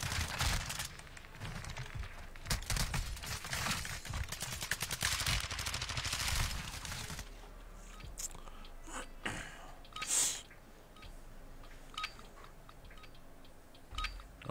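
Bursts of automatic gunfire crackle loud and dense through a Call of Duty Warzone match for about seven seconds, then drop to scattered single shots and clicks at a distance.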